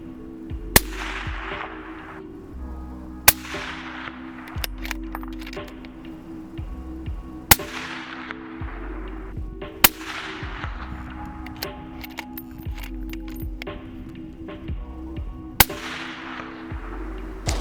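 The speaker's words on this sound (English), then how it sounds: "it sounds amazing on a 308 bolt gun" Suppressed .308 bolt-action rifle fitted with a CAT Johnny Law TI silencer fires about five or six sharp cracks spaced a few seconds apart, each with a short decaying tail, amid faint outdoor background.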